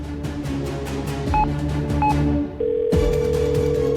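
Telephone being dialed, with a handful of quick keypad tones and clicks followed by a steady ringing tone on the line, close and clear with no talking.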